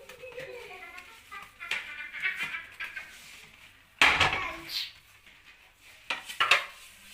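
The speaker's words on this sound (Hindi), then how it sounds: "मैं फटाफट से अपने बर्तन धो लूँ" Dishes, pots and utensils being washed at home in the evening, with scattered clinks, scrapes and clatters of metal and crockery amid running water, and someone talking between the knocks.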